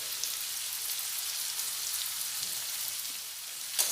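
Potatoes frying in oil in a pan for a Bengali potato and papaya curry, salted and spiced with turmeric: a steady, even hiss of sizzling throughout, fairly soft, with no talk.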